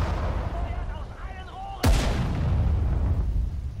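A single sharp artillery boom cracks out in the Sudden Strike 4 war game, loud and close, followed by a rumbling tail under a busy battle ambience with faint radio-style unit chatter.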